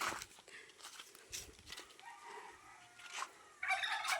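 A turkey gobbles in short rattling bursts, moderately close, amid faint outdoor background noise.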